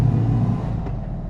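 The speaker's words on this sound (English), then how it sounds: "I also love that deep throaty bellow you get out of these bikes." A 2022 Indian Chief cruiser motorcycle engine gives a deep, steady rumble with a low throaty exhaust tone, close and fairly loud, holding even for a moment.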